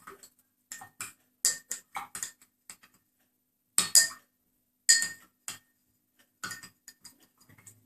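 A spoon stirring hazelnut cream into a chocolate drink, giving bright clinks and scrapes against the cup in short irregular bursts separated by near-silent pauses.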